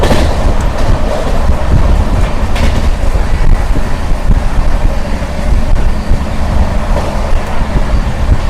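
Telangana Express travelling from Hyderabad to New Delhi, heard from inside a general coach as a loud, continuous rumble of the running train with a constant roar and rattling.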